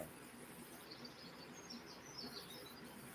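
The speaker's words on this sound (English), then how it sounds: "Can you hear the birds?" Birds sing on a peaceful morning, with scattered high chirps and tweets drifting in at a distance over a faint, quiet outdoor background.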